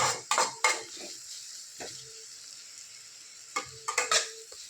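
Onions sauté in a pan for pumpkin soup, with a soft steady sizzle broken by sharp clinks and scrapes of a spoon stirring against the metal, bunched at the start and again near the end.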